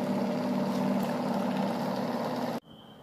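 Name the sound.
homemade BLDC motor running on 3-phase controller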